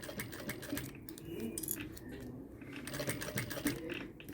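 A sewing machine stitches bias binding in quick, light rattling bursts with short pauses, a soft, close mechanical clatter with faint clicks.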